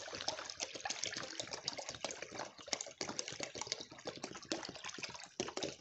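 Water is poured steadily into a poultry manure fertilizer mix, about a litre and a half, making a continuous close splashing gush with no pauses.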